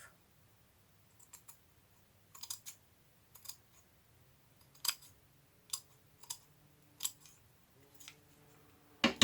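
Scissors cut through black lace close by in about eight crisp, separate snips at an uneven pace, with quiet pauses between them.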